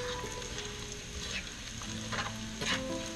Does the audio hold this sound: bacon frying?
yes